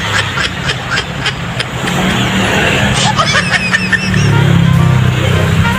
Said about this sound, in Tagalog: Traffic kasi dito eh. Medyo traffic.